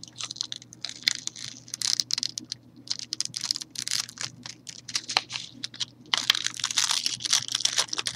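Sticky backing peels away from an item in a close, crackling, crinkly tearing sound that comes in uneven stretches with short pauses and grows denser toward the end.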